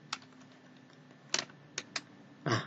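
Computer keystrokes while typing Lao text into Microsoft Excel, a few separate clicks spread out irregularly, ending in a louder quick burst of keys, close by with no talk.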